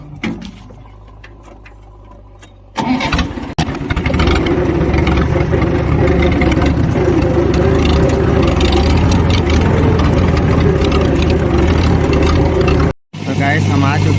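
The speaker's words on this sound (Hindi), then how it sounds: "और हम भी जाते हैं हमारा ट्रैक्टर लेके।" A Mahindra 575 DI tractor hauling soil on a rough dirt track kicks into a loud, close, steady engine drone after a quieter opening. People talk over it.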